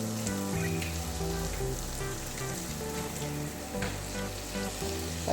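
Boiling water is poured into hot, sizzling onion masala in a pan for egg roast, producing a close, steady frying hiss with scattered bubbling pops and no speech.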